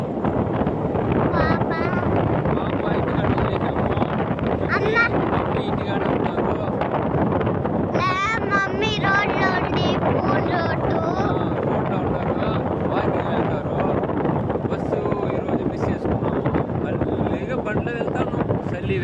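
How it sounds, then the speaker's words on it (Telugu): Steady, loud wind roar buffets the microphone while riding a motorbike on a road, continuous throughout, with a voice briefly audible underneath. "ఈరోజు బస్సు మిస్ అవ్వడం వల్ల మేము బైక్లో వెళ్తున్నాం."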